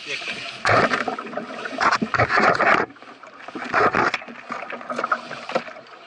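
Oars splash and knock against a wooden boat in uneven strokes on a river trip from Grīviņi to Cēsis, while several people talk and call out in Latvian nearby.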